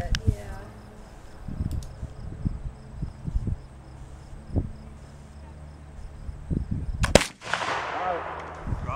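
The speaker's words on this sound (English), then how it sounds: "Now his next shot has to be to shoot the skewer in half." A single sharp rifle shot cracks out near the end, splitting a thin wood skewer at an outdoor historic camp shooting demonstration, with voices murmuring before it.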